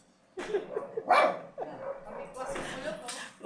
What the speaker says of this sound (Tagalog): Isa pa daw tahol.